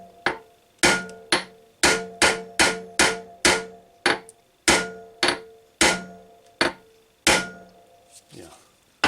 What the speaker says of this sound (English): Let's try getting a little bit braver. The ball peen hammer.